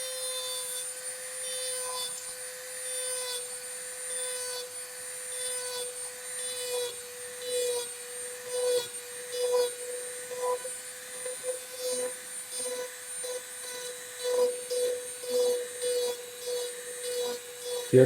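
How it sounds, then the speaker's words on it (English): A Dremel rotary tool running at its highest RPM textures PVC for a cauldron prop, giving a steady, close high-pitched whine with a rough grinding rasp that swells and fades as the bit sweeps back and forth, with no talk. "I got my Dremel at the highest RPMs"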